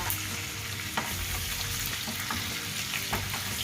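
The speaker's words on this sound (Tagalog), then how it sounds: "Nakatakot kasi mantika, tumatalsik." Adobo fries in hot, spattering cooking oil, a continuous crackling sizzle with occasional louder pops and utensil knocks, heard close but at moderate volume and without speech.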